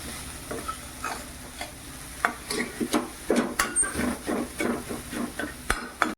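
Jaggery and grated fresh coconut filling for karanji is stirred in a pan over a low flame, giving repeated close scraping and stirring strokes with a light sizzle, spread steadily throughout with no talking.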